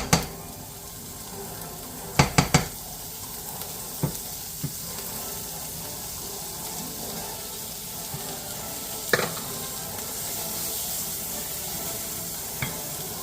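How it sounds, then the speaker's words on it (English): Butter sizzling with onions and celery in a pan, a continuous soft frying hiss broken by a few sharp clatters of a utensil against the pan, close by, no talk. "The onions and celery look pretty good. Let's add in my butter."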